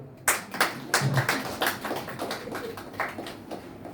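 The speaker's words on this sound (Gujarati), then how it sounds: "તાળી તો પાડો" An audience at a Bhagwat Saptah religious discourse breaks into applause, with a burst of close, dense hand claps that slowly thins and fades over a few seconds.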